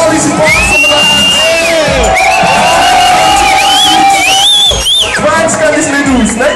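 A crowd at the Bleger Zapfenstreich 2012 cheers and whoops loudly and without a break, with shouts and yells rising over a dense roar for the whole stretch.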